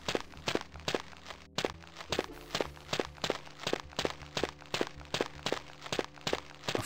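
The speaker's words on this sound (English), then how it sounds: "Our footsteps are surprisingly loud, considering we are actually barefoot." Steady barefoot footsteps from the video game Ultima VIII: Pagan, a fast even run of loud, close thuds that continues for the whole stretch with no voices.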